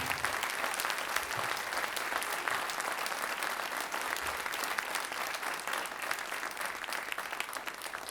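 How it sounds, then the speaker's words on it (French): An audience at a Sainte-Cécile concert by a musical society, held at a museum, applauds in a dense, even wash of clapping that runs steadily for the full eight seconds, heard from within the crowd. "que vous saluiez par des applaudissements Virginie Brel-Suppot"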